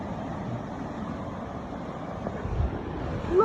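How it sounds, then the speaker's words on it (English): A flooded creek pours over a waterfall in the rain, making a steady, close, full roar of rushing water that stays broad and unbroken throughout, with a slight swell near the end. "waterfall."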